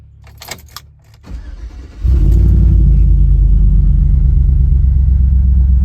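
A 1999–2006 Chevrolet Silverado 4WD pickup with a transfer case fault cranks and fires up, keys jingling first, a short starter whir, then the engine catches into a loud, steady close idle rumble.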